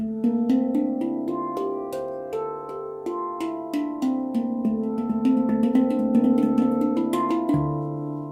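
A Panstream D-Kurd 10 handpan played alone, struck notes ringing with long shimmering sustain that overlap into a continuous melodic wash, steady and close throughout.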